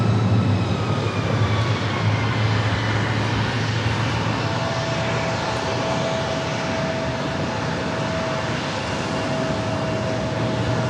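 A jet airliner rolls down runway 27 for takeoff at San Diego airport, a steady loud engine roar with a rising whine that holds through the whole stretch, no voices.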